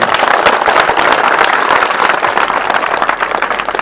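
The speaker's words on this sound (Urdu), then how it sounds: "ایک بار زوردار تالیاں ان کے لیے" Loud, dense audience applause fills the hall at a religious lecture, a steady wash of many hands clapping throughout with no pauses.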